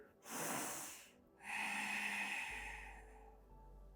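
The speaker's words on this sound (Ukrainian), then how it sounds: "Глибокий вдих." A yoga practitioner takes a deep, audible breath during a relaxation session: a long rushing inhale followed by a slower, softer exhale, close and clear, with no talking over it.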